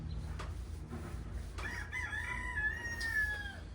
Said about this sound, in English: The new rooster was running around.